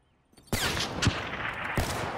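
Rapid automatic gunfire from a gun in a shooter video game breaks a brief near-silence with a loud, sharp burst. The shots then continue as a dense, crackling stream with a few heavier cracks.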